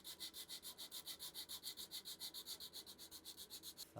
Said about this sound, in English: I'm basically just going to make sure that this is now sanded completely flat